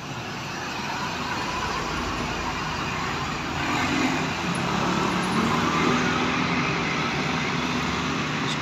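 A new tourist bus passes on a road at night, its engine and tyres forming a steady, loud roar of traffic that swells slightly midway and holds without pause.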